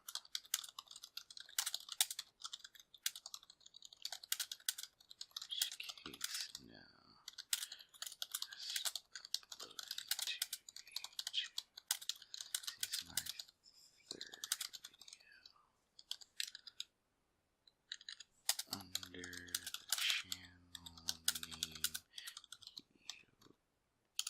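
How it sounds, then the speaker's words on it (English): Rapid bursts of clicky computer-keyboard typing close by, stopping and starting in uneven runs with brief pauses, while a low voice speaks briefly near the end. "So bad at typing that."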